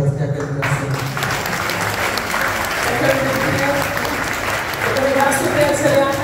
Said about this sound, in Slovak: A ešte raz taký potlesk, ďakujem krásne.